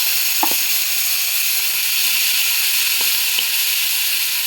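Fish heads frying in a pan with soaked raw chickpeas, giving a continuous loud sizzle and hiss with a few brief stirring clinks and pops.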